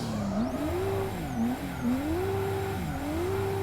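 Drift car in the Assetto Corsa racing game, a Nissan S13 or R32, engine droning and rising and falling with throttle while tires squeal and skid through a handbrake slide, loud and continuous with no talk.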